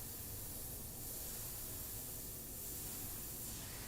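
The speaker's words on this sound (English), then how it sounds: "we always want to test the airbrush off the painting" Airbrush spraying a test burst away from a sepia portrait painting, a steady, close hiss of air and paint holding evenly for several seconds, alone without talk.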